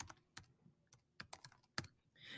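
A meeting code is typed on a computer keyboard: about a dozen quiet, crisp key clicks in an uneven rhythm, close and alone.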